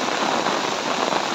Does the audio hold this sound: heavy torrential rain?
yes